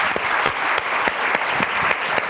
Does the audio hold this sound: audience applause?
yes